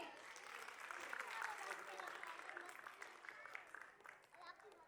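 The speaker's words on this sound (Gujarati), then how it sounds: "શ્રેયાંશ માટે તાળીઓ થઈ જાય" An audience at a school prize ceremony claps for a best-student-of-the-year award, the applause swelling and then thinning out under a speaking voice.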